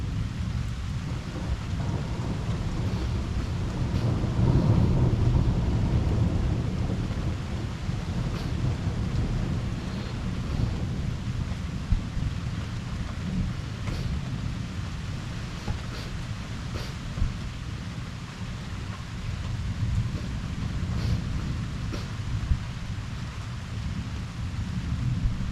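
A severe electrical thunderstorm over Liège, Belgium, with heavy rain: dense, continuous rainfall and deep rumbling fill the scene, with low thunder swelling early on and steady wind-blown hiss throughout, no voices.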